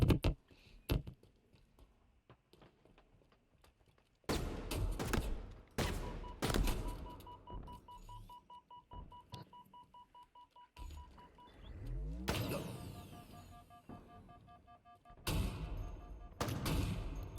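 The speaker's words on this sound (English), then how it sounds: "Nice little sniper fight going on here" Sniper rifles trade fire in a Halo match. Sharp, echoing shots come in clusters over the game's electronic tones and effects, with quiet stretches between the bursts.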